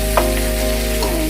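Chopped tomato goes into a pan of fried potatoes and is stirred, giving a loud, continuous sizzle over a steady hum, with a couple of brief scrapes and no speech.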